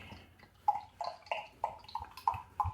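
Wadworth's 6X premium bitter beer glugs as it is poured, giving a series of about eight distinct gurgling pulses at a steady rhythm, fairly quiet and close.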